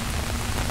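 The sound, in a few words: rain falling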